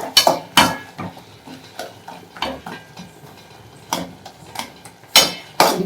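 A metal lid is set onto a pot of small onion kulambu: a run of loud, close clanks and rattles with short quiet gaps between them, and no talking.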